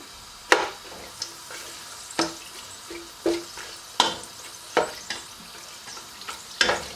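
Cinnamon, bay leaves and dry red chilies sizzle in hot oil while being stirred, with sharp, spaced clinks and scrapes of a spoon against the pan over a soft background crackle. It is close and clear, with no talk.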